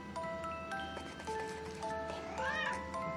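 A cat meows in a quiet room, a few soft rising and falling cries, close but faint over low background hiss with faint tinkling tones.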